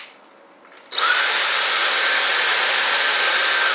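A Dyson V8 Slim Plus cordless stick vacuum starts up in high mode and runs at a louder, higher-pitched whine with a strong rush of air, steady and close.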